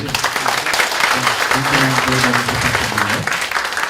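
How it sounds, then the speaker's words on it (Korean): An audience at a health lecture by a university professor applauds: sustained, moderately loud clapping with a voice and some tonal sound mixed in underneath, continuing throughout. "큰 박수 좀 부탁드릴게요."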